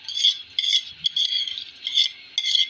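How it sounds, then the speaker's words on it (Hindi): A spoon scrapes and clinks against a pot in steady, repeated strokes as washed rice is stirred into milk for kheer, close and fairly loud with no speech. "अब हम इसको साथ मिक्स कर रहे हैं।"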